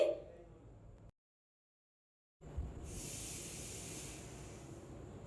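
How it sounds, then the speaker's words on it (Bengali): Mashed pointed gourd (potol) dropped into hot fried tempering in a pan, a sudden loud sizzle and hiss that starts after a brief silence and holds steady, close and bright. "ফোড়নটা ভালোভাবে ভেজে নিয়ে এবার এখানে মেখে রাখা পটল দিয়ে দিচ্ছি"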